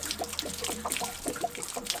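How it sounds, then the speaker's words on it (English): Water trickles and splashes steadily from the drain of an RV hot water tank being flushed, a faint, continuous gurgling with small irregular drips, heard alone without talk. "we can see water starting to come out of the hot water tank"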